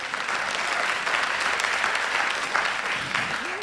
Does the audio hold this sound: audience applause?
yes